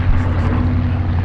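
The B-17 bomber Sally B drones overhead at an airshow, its four-engine piston and propeller roar a steady, loud rumble with no talk over it.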